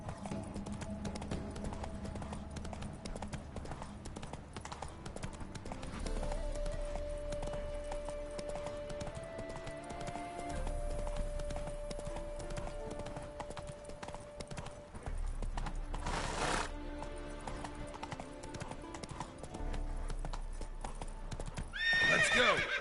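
The horse Roach gallops in The Witcher 3, with rapid, steady hoofbeats close by running the whole time over game music, and a brief neigh near the end.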